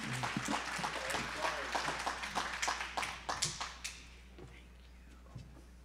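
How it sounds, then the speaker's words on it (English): A university breakfast audience claps for the provost at a Martin Luther King tribute, individual claps standing out clearly before fading away after about four seconds into quiet with a low hum beneath. "Can we clap it up for her?"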